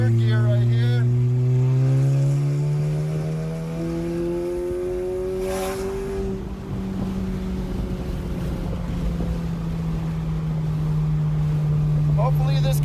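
Inside a VW MK7 GTI with an exhaust cutout, the engine drones and rises steadily while accelerating in third gear, loud and continuous from the cabin.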